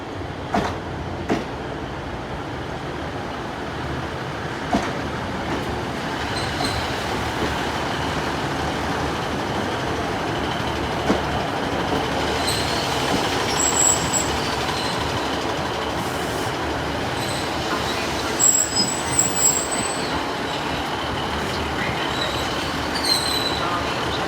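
A Northern passenger train moves through Sheffield station with a steady rumble of wheels on rails, brief high squeals from the wheels now and then, and a broad hum of station noise throughout.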